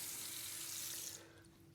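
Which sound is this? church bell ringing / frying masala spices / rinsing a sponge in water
rinsing a sponge in water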